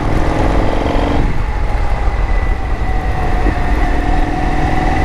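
Indian FTR x RSD Super Hooligan motorcycle engine pulling hard and revving, loud and close, with a steady droning roar that drops in pitch after the first second and carries on under continuous wind rush.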